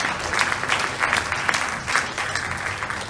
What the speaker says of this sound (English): give a big round of applause to Luis from Blankit